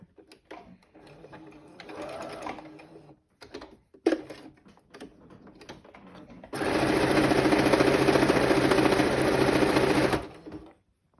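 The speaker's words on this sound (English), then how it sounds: "your sewing machine needs to be oiled." A sewing machine runs in a steady, loud mechanical whir for several seconds while stitching fabric for a face mask, preceded by quieter handling noises and brief rustling.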